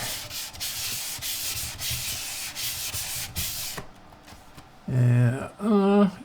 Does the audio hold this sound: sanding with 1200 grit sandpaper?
yes